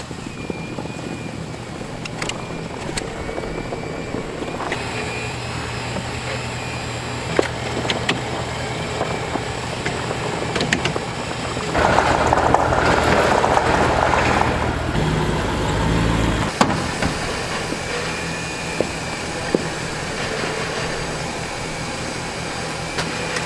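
Winch motor whirring steadily as a Land Rover is hauled up by cable off an LR4, a low drone running throughout with a louder, rougher strain midway before settling back.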